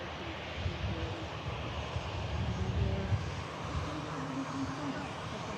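A SunExpress airliner takes off with a steady, rumbling engine roar at middle distance, heard briefly with wind noise and some faint background voices.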